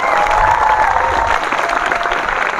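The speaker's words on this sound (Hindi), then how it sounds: "जोरदार तालियां" Loud, dense applause from a large crowd celebrating the Chandrayaan-3 lander and rover reaching the Moon fills the whole stretch, steady and sustained, with a faint tone running beneath the clapping.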